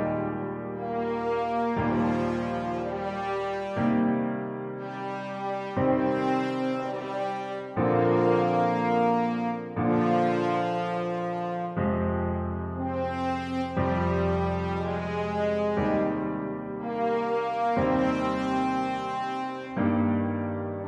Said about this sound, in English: let's listen to that horn part so you can hear what's going on